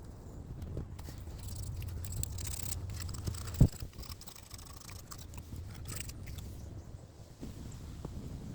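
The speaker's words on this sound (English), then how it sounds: "We'll just get a razor blade, and we're going to use the sandpaper." Sandpaper scrubs the cylinder head surface of a Kia Soul during a head replacement, producing close, uneven scratchy rasps with a sharp knock midway.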